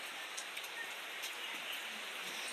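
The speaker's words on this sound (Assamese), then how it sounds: "একদম বৰষুণ আহি আছে" Steady rain pours down in a dense, even hiss that never lets up, with no voices over it.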